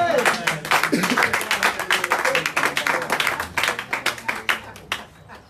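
A church congregation claps in a lively, rapid rhythm of dense, sharp claps throughout, with voices and acclamations mixed into the steady applause.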